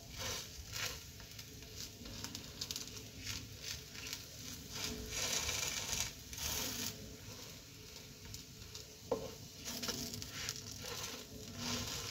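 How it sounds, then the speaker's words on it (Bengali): Patishapta, a Bengali rolled crepe filled with moong dal and kheer, frying in a pan: a quiet, continuous sizzle and patter with occasional soft scraping and rustling, no voices over it. "দেখুন লাল লাল করে ভেজে নেব।"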